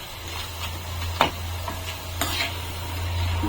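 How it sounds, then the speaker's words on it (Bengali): Oil deep-fries crispy jhuri bhaja with a constant crackle and hiss while a utensil scrapes and stirs through the pan a couple of times, close by. "লাল লাল করে ভেজে নেব"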